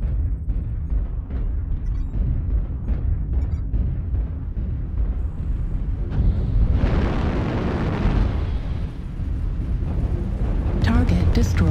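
MechWarrior Online explosions as targets are destroyed, heavy rumbling booms that swell into a loud roaring blast midway, with continuous low battle noise and a voice speaking over it.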